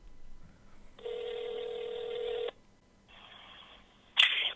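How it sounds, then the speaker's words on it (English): A telephone call placed on speakerphone: a sustained dial tone, then a pause and a quieter ringback tone, ending with a short, sharp electronic beep, all close and clear with no voices. "I'm calling them right now"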